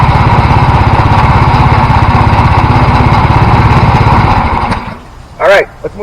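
A Harbor Freight Predator small engine, freshly started and settling to idle, putters loud and close in a steady rapid chug for about five seconds, then cuts off, leaving a brief noise and quiet.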